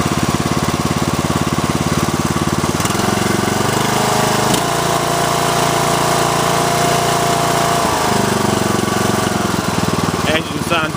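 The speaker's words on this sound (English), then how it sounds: "The engine's running good. We'll go ahead and give it some gas here." A Snapper NXT lawn tractor engine runs loud and close, a steady throbbing drone that shifts pitch and grows busier as the throttle is opened, with a brief change near the end.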